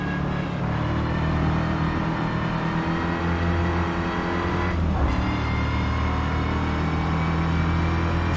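Racing car engine in Forza Motorsport, steady loud rev through sixth gear with a brief dip and shift around the middle, continuous and close with no talking.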